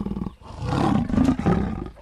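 Creature in the video game Primal Earth lets out a single loud, close roaring cry, a deep throaty bellow swelling and holding for about a second and a half before fading.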